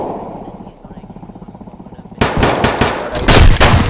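Escape from Tarkov gunfire: a steady, rapid rhythmic burst of shots runs first, then loud, heavy shotgun-like blasts boom close by in an irregular volley.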